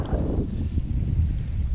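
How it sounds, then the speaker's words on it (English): Low, gusty rumble of wind buffeting a microphone, steady and close throughout, with no talking. "It's a little windy. Wind's just starting to pick up"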